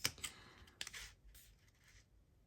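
Scissors cut through book cover material while repairing a book cover and making its spine, a few crisp snips close by followed by a drawn-out slicing scrape, with no talking.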